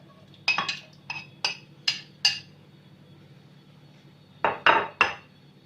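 Ice cubes dropped into a blender jar, with a cluster of sharp clinks followed by a pause and three more clattering knocks, close and distinct against a quiet background.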